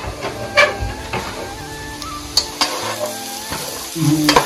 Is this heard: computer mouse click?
no